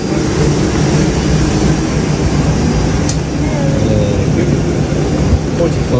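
Etihad airliner in flight from Abu Dhabi to Jakarta, its jet engines making a steady, loud, broadband cabin roar that stays constant throughout, heard from inside the plane.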